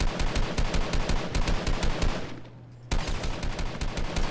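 Assault rifle fire from Fortnite rattles off in rapid, evenly spaced loud bursts, pausing briefly near the middle before the rapid shots resume to the end.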